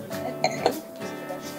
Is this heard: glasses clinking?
yes